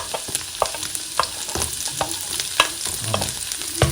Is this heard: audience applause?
no